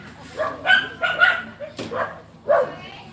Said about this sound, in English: It was so nice till those dogs started fighting.